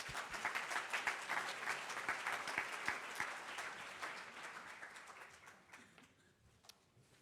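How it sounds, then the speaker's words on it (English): A symposium audience claps steadily after a talk, with dense, overlapping applause that gradually thins and fades toward the end, leaving a few last scattered claps. "let's give Elena another round of applause."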